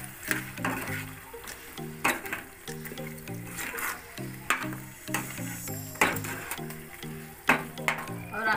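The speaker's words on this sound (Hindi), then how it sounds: "चलिए अब ऐड करते हैं सूखा नारियल, जिसको मैंने भून लिया था, और इसको बारीकी से कूट लिया है अभी, और इसको अच्छे से घुमा लेते हैं" A spoon stirs roasted, finely pounded dried coconut into chicken sukka frying in a pan, giving rhythmic scraping and clinking strokes over a soft steady sizzle, close and fairly quiet.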